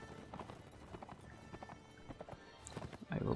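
Horse hooves clip-clopping in Mount and Blade Warband, a quick irregular run of hoof thuds at low volume, ending in a louder rush of movement.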